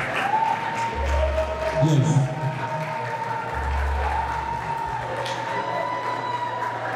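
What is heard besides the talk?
audience applause at beauty pageant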